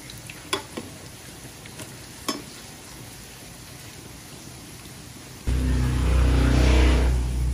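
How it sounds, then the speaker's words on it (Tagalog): Bottle gourd omelette (tortang upo) frying in a pan, a loud steady sizzle that cuts in abruptly partway through after a quieter stretch with a few faint clinks, no talking. "Ang ganda ng pagkakaprito."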